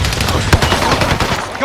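Rapid automatic gunfire from a Call of Duty Warzone zombies match on Rebirth Island rattles loudly and continuously, with dense overlapping shots and game effects filling the short burst.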